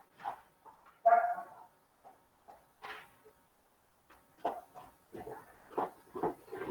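A puppy barks in short, separated yelps and whimpers indoors during a university lecture, with sparse speech-like sounds between the barks.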